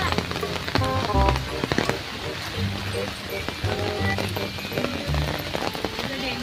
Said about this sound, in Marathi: मस्त धुवाधार पाऊस चालू झालेला आहे बघा.